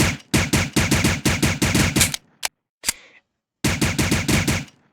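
A US SOCOM pistol fires in rapid bursts in the video game Soldier of Fortune II Unreal Edition, sharp close shots in quick volleys broken by a couple of single reports and a pause.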